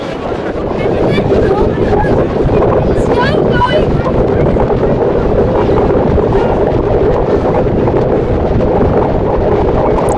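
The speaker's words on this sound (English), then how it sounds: "We'll have to ignore the wind in the background" Blustery outdoor wind buffets the microphone in a steady, loud broadband roar for the whole stretch, with faint water or boat-like sounds beneath and no clear speech.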